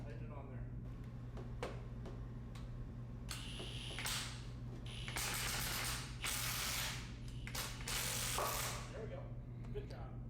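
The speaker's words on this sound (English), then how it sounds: "you can hear it pop right off" A Ski-Doo 800R snowmobile primary clutch being popped off with a hydraulic water-pressure method, heard as mechanical clicks and ratcheting creaks rising into bursts of hissing spray and a release, with a steady low hum underneath.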